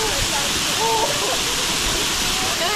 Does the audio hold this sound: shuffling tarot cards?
no